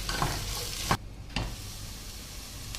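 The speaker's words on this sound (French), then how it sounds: "je vais bien enrober mes légumes de matière grasse et puis on va les faire revenir" Parsnip and squash fry in fat in a pan for a winter vegetable gratin, a steady close sizzle cut by a brief drop in sound and a single clack of the pan before the frying carries on.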